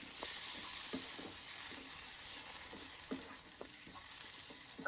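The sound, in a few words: tomato paste sautéing in pan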